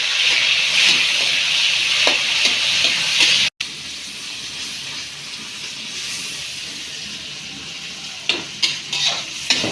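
Garlic, onion and tomato sautéing in a pan, giving a loud bright sizzle and hiss throughout with occasional stirring scrapes and clacks toward the end, close up, no talking.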